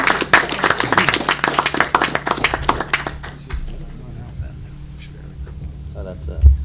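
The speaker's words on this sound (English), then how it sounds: "So a round of applause for everyone." A round of applause at a Portland, Connecticut Board of Selectmen inauguration ceremony: close, loud clapping for about three seconds that fades out, followed by quiet indoor murmur and talk.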